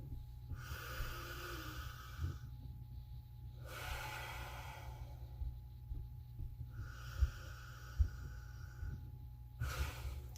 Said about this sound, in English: Just take a few deep breaths.